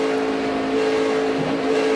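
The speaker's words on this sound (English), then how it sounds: "Well, you can hear him just having to pedal that throttle." A NASCAR race car engine in the 2012 Ford EcoBoost 300, the driver pedaling the throttle in traffic, producing a steady loud engine drone with slight pitch wavers throughout.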